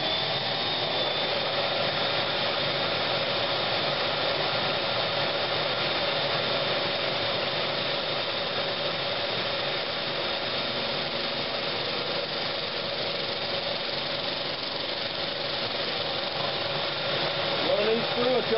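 A steady, loud motor whine drones on without pause, a vacuum running close by during woodturning of a spalted pecan bowl, with a broadband roar and a faint tonal hum.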